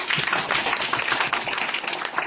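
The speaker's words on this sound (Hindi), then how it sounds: "तो डीएक्शन के लिए जोरदार तालियां।" Dense, steady applause from an audience at a DXN business meeting: many hands clapping together nearby, continuous and fairly loud throughout.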